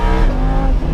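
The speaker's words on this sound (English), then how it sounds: "That exhaust makes up for it." Lamborghini Huracan exhaust delivers a loud, continuous deep engine roar, close and sustained as the car pulls through a corner.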